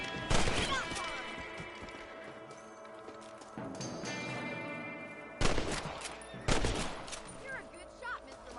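Gunfire in the video game Red Dead Redemption while shooting rabbits on a ranch, with a sharp burst of shots at the start, then two more loud bangs later, set against game music and ambience.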